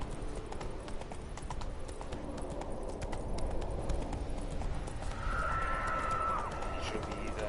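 Horse galloping in The Witcher 3 video game: rapid, steady hoofbeats drumming continuously under ambient game sound, with a brief whinny-like tone near the end.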